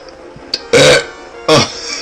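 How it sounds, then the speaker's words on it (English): Two loud, close burps from someone eating small tacos for lunch, each a short throaty blast about three-quarters of a second apart, preceded by a faint click and no talk. "Damn, this episode's full of burping."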